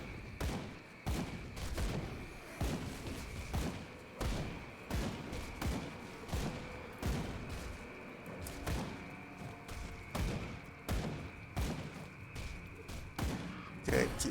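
Dual pistols firing in Grim Dawn, a rapid run of sharp gunshots and thumps close up, steady throughout over game music and effects, with a voice talking at times.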